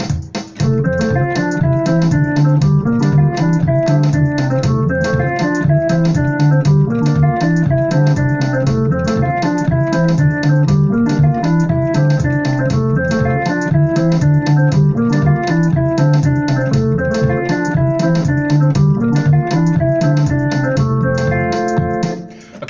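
A makosa groove on piano with a walking bass line and a steady drum beat plays loud and continuous, the bass notes bouncing under repeated piano chords for the whole stretch before stopping abruptly.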